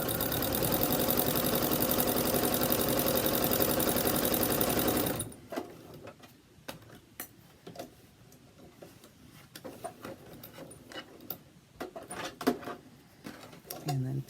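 A sewing machine stitches a fabric ear saver with a loud, fast, continuous whirring buzz for about five seconds, then stops, leaving soft handling clicks and taps.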